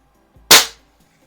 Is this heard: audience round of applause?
no